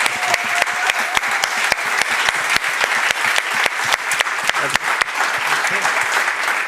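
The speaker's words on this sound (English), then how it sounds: "A round of applause," Audience at the Cleantech Camp 2021 final event applauding, dense sustained clapping with crisp individual claps standing out, loud and close throughout.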